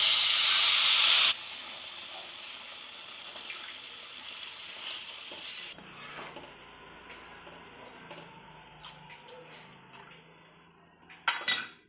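Warm water hits hot roasted semolina in a pan while making halva, setting off a loud burst of sizzling steam for about a second. It then drops to a quieter bubbling hiss with occasional clinks of a utensil against the pan.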